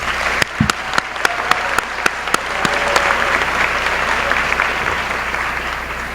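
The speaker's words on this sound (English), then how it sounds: "Give yourself a round of applause." Loud applause from a graduation audience at Russell County High School's 2018 ceremony, opening with several sharp distinct claps before swelling into sustained dense clapping.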